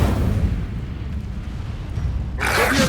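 An Incendio fire spell cast in the video game Hogwarts Legacy, heard as a low rumbling roar that ends in a sudden, brighter whooshing burst near the close.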